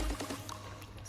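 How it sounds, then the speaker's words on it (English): Double cream being poured into a simmering pan for peppercorn pasta, a brief soft liquid pour heard close up and fairly faint, with no talking. "add in your double cream. Make sure to get every last decadent drop"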